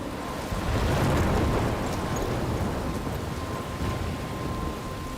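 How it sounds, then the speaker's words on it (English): Heavy rain roars in a stormy scene from the video game Life Is Strange, with a deep rumble of thunder swelling early and a dense, continuous downpour close around the listener. "I'm trapped in a storm?"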